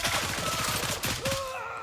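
Rapid automatic gunfire from a rifle in the Gray Zone Warfare video game, a quick string of about a dozen sharp close shots in steady rhythm, then a short pause and a final burst trailing off.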